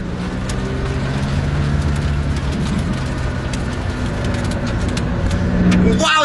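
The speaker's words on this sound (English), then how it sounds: "the way this car just launches you into a different planet" A Ferrari 458 Speciale launches hard in a drag race, producing a loud, continuous roar of engine and road noise that holds steady and slightly swells near the end, with no talking.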